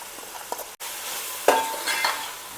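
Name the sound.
frying ginger garlic coriander paste in pan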